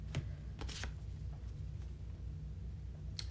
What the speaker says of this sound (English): I'm going to do a deck cut and pull 2 cards from the cut